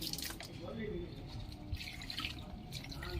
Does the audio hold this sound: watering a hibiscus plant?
yes